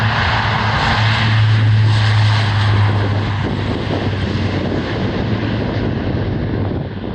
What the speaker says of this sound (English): let's have a listen to the engines as the C-130 takes off